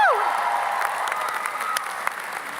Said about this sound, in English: I'm gonna say that again and you're gonna clap.